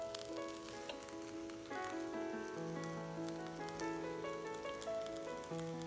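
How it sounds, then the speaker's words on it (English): A vegetable omelet sizzles steadily in a pan after being flipped with a turner, a faint continuous hiss and crackle under a few sustained musical tones. "put your turner in there and give it a flip on its side"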